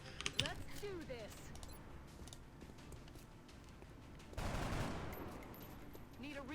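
Light machine gun fire in XCOM Long War, a few sharp bursts early on followed by a louder rushing blast later, set against quiet background talk.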